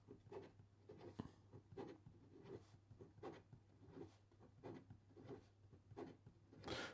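A segmented fountain pen scratches quickly across paper in a quiet room, producing a string of short, brisk rubbing strokes in an uneven rhythm, close and faint over a low steady hum.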